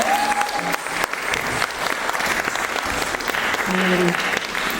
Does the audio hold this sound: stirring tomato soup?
no